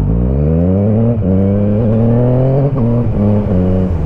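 Steady engine drone from a motorbike riding through bumper-to-bumper Sydney traffic, a continuous close tone with small shifts in pitch as the throttle changes, carrying on without a break and with no talking.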